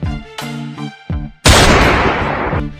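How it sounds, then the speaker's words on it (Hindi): Gunfire in a dense forest: a few short bursts over a tonal musical backdrop, then one loud, sustained blast that lingers noisily. "अरे गोली चलने की आवाज, ये आवाज तो पूरब की तरफ से आ रही है।"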